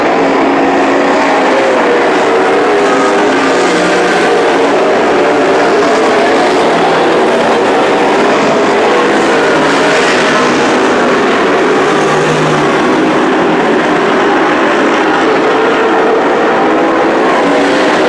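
A pack of super stock race cars roars around Petaluma Speedway in a dense, continuous engine wash, with individual cars swelling and fading as they pass during the main event.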